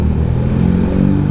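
A motorcycle ridden by a woman learning to ride in a busy housing estate, Dalung Permai in Badung, Bali, its engine droning steadily and fairly loud and close throughout, with no talk.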